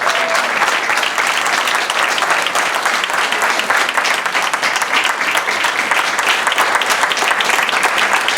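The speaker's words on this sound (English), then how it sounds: "How about a round of applause for all of our candidates tonight?" Audience at a school committee candidates forum in East Greenwich applauds steadily for all the candidates, a dense, sustained clapping from a room of people that runs throughout without talk.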